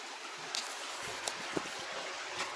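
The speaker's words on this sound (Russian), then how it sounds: "подъехали к незамерзающему ручью, который здесь постоянно бежит" Faint, steady trickle of an unfreezing stream running in the Oymyakon cold, a soft continuous wash with a few small splashy ticks.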